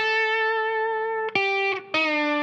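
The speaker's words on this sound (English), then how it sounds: "Now, I'm gonna play that with my fingers." An electric guitar lick played fingerstyle with bare fingers: a long sustained note followed by a few quick plucked notes, close and clear with softer attacks.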